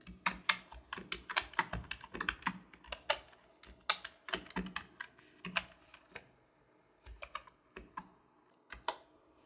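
Python code is typed on a computer keyboard in uneven bursts of crisp, close key clicks with short pauses between runs.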